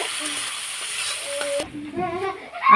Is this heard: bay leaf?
yes